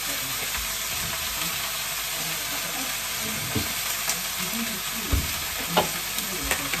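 Butter sizzles loudly and steadily in a frying pan for cabbage at breakfast, with occasional soft knocks from stirring and no talking over it.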